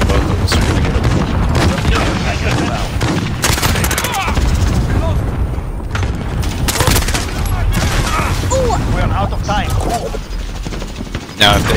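Heavy gunfire in Call of Duty Modern Warfare 2 rattles in dense automatic bursts and booms, loud and near, almost nonstop, with a player talking over the fighting.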